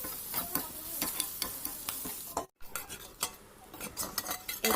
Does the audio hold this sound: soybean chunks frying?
yes